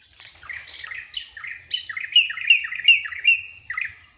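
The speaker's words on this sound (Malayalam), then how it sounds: "ആ കിളികളെ കണ്ടോ അത്രയാ കിളികൾ" Birds squawk loudly at close range, a series of harsh, repeated calls that come faster and grow stronger over a few seconds.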